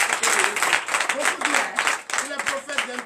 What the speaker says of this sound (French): Donnez encore de la acclamation